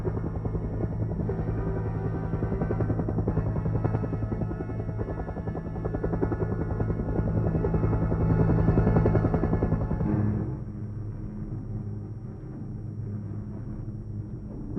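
Steady, loud rotor thump and turbine drone from an AH-56A Cheyenne attack helicopter, continuous throughout and easing slightly near the end, with no talk.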